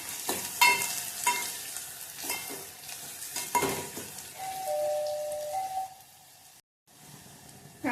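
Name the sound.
frying onion and cumin in oil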